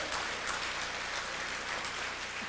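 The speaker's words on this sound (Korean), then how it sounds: "박수 한번 쳐보세요" A church congregation gives a steady round of applause that fills the hall evenly, a dense wash of clapping with no voices rising above it.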